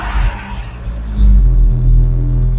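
Rover 25 GTI engine cranking and catching after a fuel filter change, then settling into a loud, steady, low idle rumble close by, with no talking.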